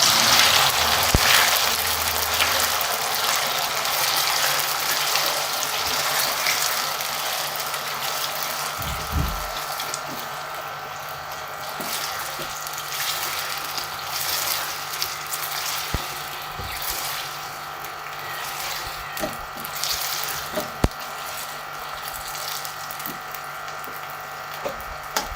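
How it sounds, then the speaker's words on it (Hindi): Half a kilo of taro roots (arbi) frying in hot oil in a village kitchen, a steady broadband sizzle continuing throughout with a few soft clicks and knocks over it. "आयल गरम हो जाए तो अरबियाँ फ्राई करेंगे।"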